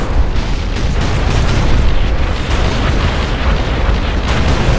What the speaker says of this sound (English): All rockets igniting a salvo.